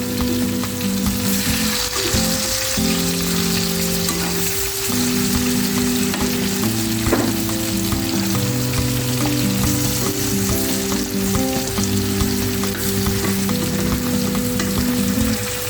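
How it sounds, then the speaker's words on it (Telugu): Pieces of fish shallow-frying in a pan, a dense, loud and continuous sizzle with steady crackle throughout, plus occasional stirring or turning noises and a low background hum. "ఇలా అన్ని ముక్కల్ని జాగ్రత్తగా తిప్పుకుంటే ఫిష్ కరెక్ట్గా అన్ని పక్కల నుంచి ఫ్రై అవుతుంది"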